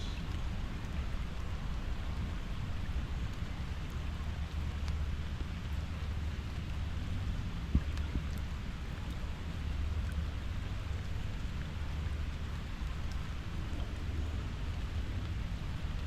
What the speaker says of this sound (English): Enjoy the sounds of raindrops.